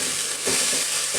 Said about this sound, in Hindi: अब मैं इसमें दाल डालूँगी और भूनूँगी